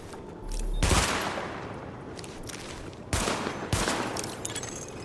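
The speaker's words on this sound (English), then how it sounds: "Open fire at the highlighted targets." Gunfire from a weapon test in the video game The Division, with loud bursts of rapid automatic shots, a pause, then another close volley and single shots, with no talking.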